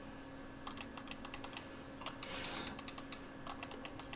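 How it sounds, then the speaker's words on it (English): Logitech G305 or G603 computer mouse buttons clicked in quick bursts of sharp, close, crisp clicks separated by short pauses, with no talk over them. "here's the clicking sound for this mouse"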